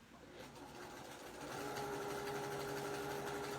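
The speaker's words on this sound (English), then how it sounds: "And I'm just going to edge stitch that closed." A sewing machine edge stitches a bag seam closed just inside the edge, running as a steady mechanical whir that grows a little louder and denser partway through, with no talking.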